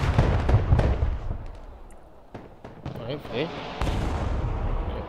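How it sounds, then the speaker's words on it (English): Artillery fire in the strategy game Broken Arrow, with booming impacts and rumbling blasts at varying distances under a voice. "Artillery."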